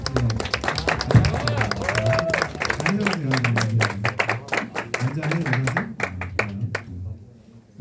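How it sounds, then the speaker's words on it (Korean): A church congregation gives welcoming applause for first-year high school students at their first youth service, a lively burst of close hand claps mixed with people talking, fading near the end. "자, 우리 환영의 박수로."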